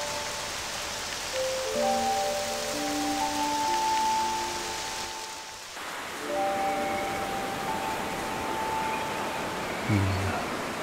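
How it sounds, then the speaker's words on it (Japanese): Purple rain falls in the video game Octopath Traveler 2, a steady broadband hiss of rainfall under sustained musical tones, briefly dipping in the middle before resuming. "紫色の雨。"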